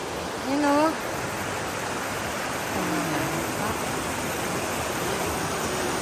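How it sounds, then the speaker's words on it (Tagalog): Daranak Falls in Tanay, Rizal, a steady broadband rush of falling water filling the scene, loud and constant, with brief whistle-like tones near the start and a speaking voice over it. "Daranac Falls. Tulog tayo. Dito yan, Tanay Rizal guys."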